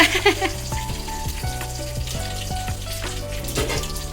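Curry leaves sizzle in hot oil with a loud continuous hiss and crackle, heard alone at close range, with faint tonal hum underneath.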